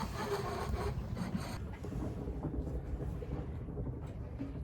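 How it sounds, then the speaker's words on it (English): Thunder from a thunderstorm rumbles low and distant behind a boat travelling north along the coast from Cape Henlopen, a steady deep roll mixed with wind and water noise. "yeah, that's a thunderstorm. It's right behind us here."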